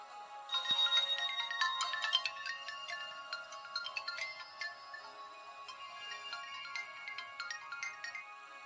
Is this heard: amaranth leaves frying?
no